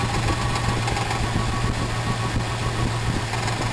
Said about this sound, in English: He was saying that there was a bad lifter or something going on in this engine